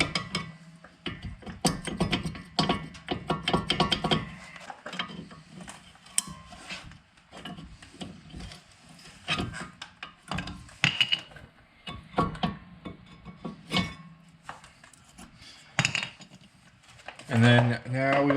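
Old brake pads and caliper being removed from a 2007-2015 Chevrolet Impala rear brake, with irregular metallic clinks, scrapes and rattles of parts, close and moderate.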